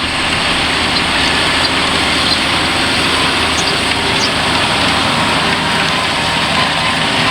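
A 2014 tractor engine runs steadily and loudly nearby, a continuous dense rumble with no change in pace and no voices.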